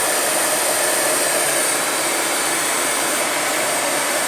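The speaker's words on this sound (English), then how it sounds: "There's your heat gun." A heat gun blowing steadily while shrinking heat shrink tubing over a wiring splice, a loud continuous airy roar held close throughout, with no talking.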